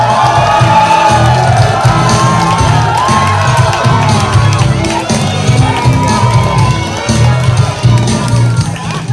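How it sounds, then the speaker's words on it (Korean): A large crowd at a Korean political rally cheers, claps and shouts loudly and continuously, with a dense roar of voices throughout. "여러분 뜨거운 박수 부탁드리겠습니다."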